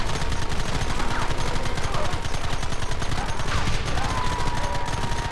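Heavy gunfire in Red Dead Redemption, a relentless rapid stream of shots from several guns, loud and unbroken across the whole stretch, with faint whistling ricochets threaded through.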